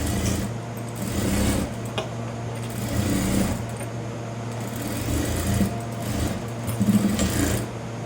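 A sewing machine runs steadily close by while back-stitching a chudithar side seam, its motor humming and the needle chattering in short bursts with brief pauses between runs.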